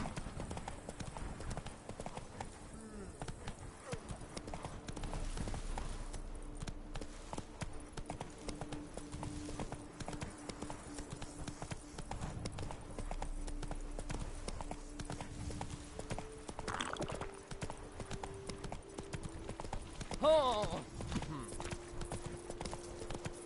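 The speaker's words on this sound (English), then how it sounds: "Come on, Roach. Come on now" Horse hooves clip-clopping at a steady walking rhythm in The Witcher 3, soft and continuous under game music, with a voice speaking briefly.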